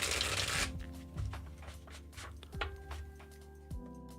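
Tarot cards are shuffled by hand close up, beginning with a dense riffle, then softer sliding and a few sharp taps as the deck is squared, with no talk.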